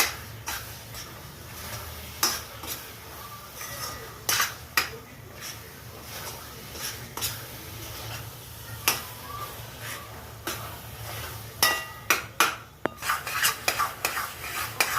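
A spoon or ladle scrapes and knocks against a pan while khoya and carrot halwa are stirred continuously, giving repeated close clinks and scrapes with a soft sizzle underneath.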